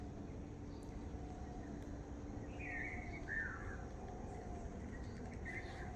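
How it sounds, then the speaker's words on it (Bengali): A few faint, thin bird chirps sound in the distance over a quiet, steady outdoor hush, heard from a rooftop. "পাখির আওয়াজ"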